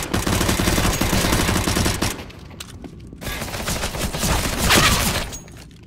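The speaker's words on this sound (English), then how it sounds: "they picked an opportune time to switch to semi-automatics" Semi-automatic rifle gunfire in the competitive shooter CS:GO, a dense volley of loud, close shots in quick succession for about two seconds, then sparser scattered shots and ricochet-like cracks continuing under game ambience.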